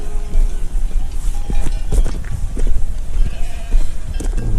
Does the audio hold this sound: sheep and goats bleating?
yes